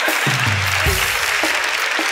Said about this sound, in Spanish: un aplauso para la Malicha